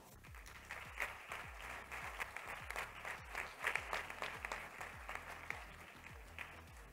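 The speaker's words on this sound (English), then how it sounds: "I want to give a warm round of applause to Cristian Pascual" Warm audience applause for a speaker at a health congress in a large hall, sustained crowd clapping alongside a steady thumping music beat, fairly soft and distant.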